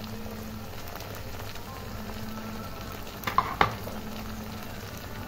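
Onion and spices frying in a pan, an even close sizzle throughout with a few sharp metallic stirring clinks partway through, no talking.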